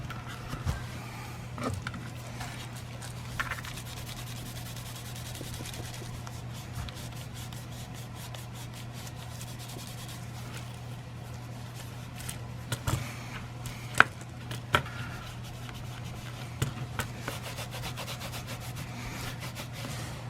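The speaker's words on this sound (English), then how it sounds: "I'm just kind of buffing it with my fingers as the best I can here" Fingers buff a small leather sheath, producing soft, continuous close-up rubbing with scattered faint ticks and scuffs over a low, steady background hum.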